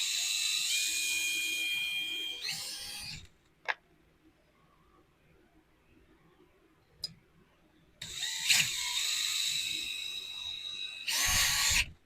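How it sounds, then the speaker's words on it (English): A small high-pitched drill whines in two long bursts drilling out G.I. Joe Classified action figure parts, separated by a quiet pause with a couple of sharp ticks, then a brief final spurt. "I'll drill these out one more time, make sure I got them."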